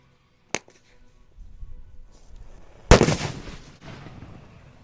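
Ammunition rounds fired in a live demonstration: a sharp single crack, then a louder close blast with a crackling, rumbling tail that fades over a second or so.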